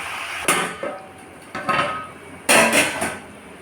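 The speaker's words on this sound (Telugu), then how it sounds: "మధ్య మధ్యలో ఇలా కలుపుతూ ఉండాలండి" Jaggery and raw mango are stirred in a pot over low heat, giving three separate bursts of knocking and scraping against the metal, close and fairly loud, with quiet gaps between them.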